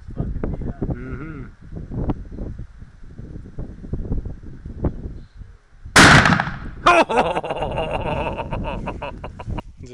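A Remington .270 rifle fires a single loud, sharp shot at a cantaloupe target outdoors beside a building, with people talking before the blast and a ringing echo after it.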